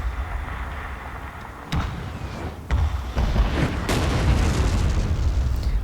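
Artillery fire hitting walls in a Total War video game: several deep booms and impacts over a constant low rumble of battle, growing louder and denser toward the end.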